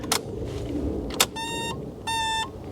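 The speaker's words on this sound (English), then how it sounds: "I wouldn't be able to hear the fuel pump over this damn beeping." Two short electronic warning beeps from a 1991 Plymouth Colt Vista, steady tones each about a third of a second, over a low engine rumble with a couple of clicks.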